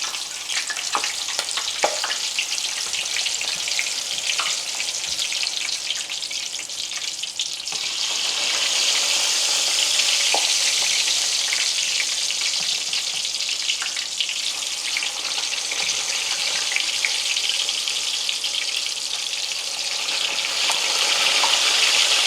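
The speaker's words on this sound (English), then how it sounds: "And now I am going to put them in the oil." Plantain slices fry in hot oil after soaking in seasoned water and being dusted with flour, giving a steady, close crackling sizzle that swells louder after they go in and holds for the rest of the stretch, with no talk.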